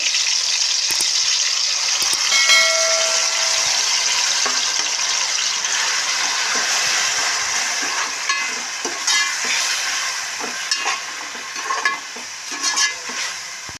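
Onions sizzle steadily in a frying pan for a fish curry, a bright continuous crackle with occasional stirring scrapes and clinks growing more noticeable toward the end.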